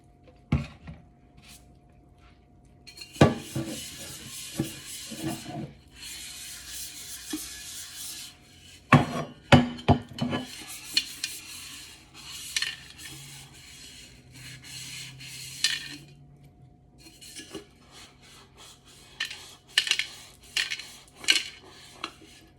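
Kitchen dishwashing with dish soap: cutlery clattering, plates and pans knocking, and steady scrubbing and rubbing, bursts of clinks rising and falling close by over a faint background hum.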